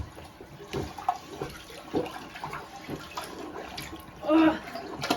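A clogged toilet being unclogged with a plunger is flushed, giving a near, muffled rush of swirling water with splashy bursts and a louder gurgle toward the end.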